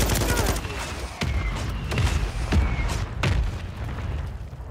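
Artillery rounds from a fire-support call in Call of Duty: Modern Warfare 3 slam down in a rapid series of heavy booms and crackling blasts, several distinct impacts spaced about a second apart over constant battlefield noise.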